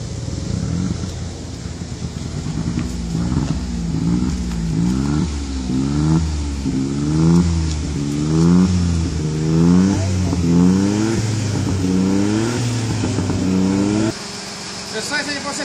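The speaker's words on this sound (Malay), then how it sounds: "kita akan terus tekan minyak secara perlahan untuk keluarkan karbon melalui exhaust system" A Perodua Kancil L2S engine is revved repeatedly in slow rising and falling cycles to blow carbon out through the exhaust during a decarbonising treatment, loud and close, ending abruptly.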